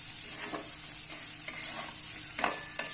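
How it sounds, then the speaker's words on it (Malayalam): Chillies crackling and spitting in hot oil on the stove while lime pickle is being made, a steady sizzle broken by sharp pops, with no talking. "മുളകൊക്കെ പൊട്ടാൻ തുടങ്ങിയിട്ടുണ്ട്"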